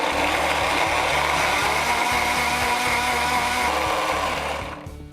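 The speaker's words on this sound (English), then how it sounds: "we're gonna put the lid on and blend it up." A blender runs steadily at high speed, mixing a maple balsamic dressing with maple syrup and Dijon mustard, a loud continuous whirring motor drone that winds down at the end.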